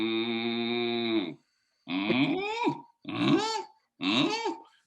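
A human voice imitates cattle, drawing out one long steady moo, then adding three shorter, bending moo-like calls, each loud and close with brief gaps between them.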